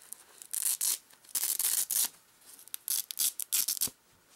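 A custom Breyer model horse is unwrapped from its packaging, with repeated close crinkling and tearing bursts in an uneven rhythm, paper or plastic being pulled away in short loud strokes separated by brief pauses.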